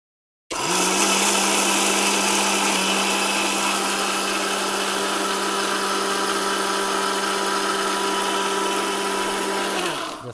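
An Orpat mixer grinder grinds whole turmeric into powder, its motor starting abruptly into a loud, steady whirring whine that holds unchanged for about ten seconds before cutting off. No one speaks.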